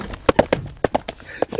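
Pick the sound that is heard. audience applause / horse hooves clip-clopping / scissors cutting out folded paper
horse hooves clip-clopping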